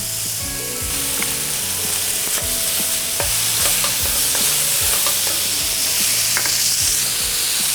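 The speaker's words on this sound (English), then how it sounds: "I'm gonna saute my onions and mushrooms until they begin to brown." Onions and mushrooms sizzle in butter in a hot pan, a steady loud frying hiss broken by repeated scraping and clinking stirs of a utensil against the pan.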